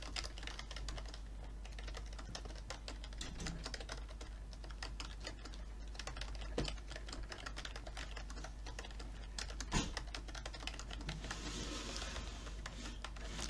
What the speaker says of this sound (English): I have a new keyboard, so if I do bad, it's because of a new keyboard.